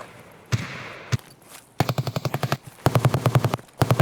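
In Escape from Tarkov, a scav boss fires automatic gunfire: a few sharp single shots, then several fast, loud bursts of rapid rounds that sound fairly close.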